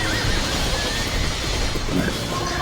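Horses neighing in a video game, loud and continuous against a dense bed of game noise, with possible hoof clatter mixed in.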